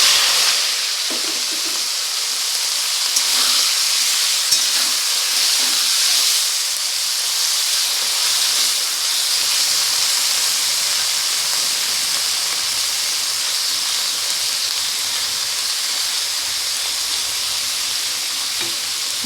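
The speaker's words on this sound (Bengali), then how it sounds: "মাছটাকে হালকা ভেজে নেবো আর কি" Small mourala fish frying in hot oil make a loud, continuous sizzling hiss that holds steady throughout, with no voices.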